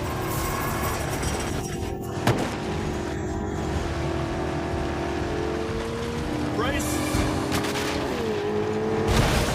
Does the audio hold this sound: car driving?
yes